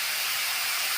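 Potatoes frying with cumin, coriander and dry chilli in a hot pan give a dense, even, close sizzle with no gaps and no voices.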